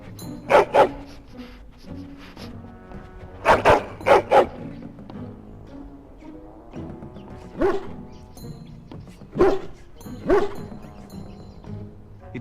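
Dog barking in the Dragon Age: Origins video game, several loud clusters of barks and yips spaced through the clip over a quiet game background.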